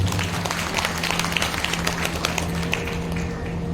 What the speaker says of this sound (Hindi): जरा जोरदार तालियां दो।